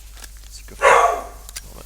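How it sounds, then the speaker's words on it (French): A pet dog gives a single short, close bark indoors, rising above a quiet room hum, with a brief murmured voice before it. "Pardon, ça c'était mon chien."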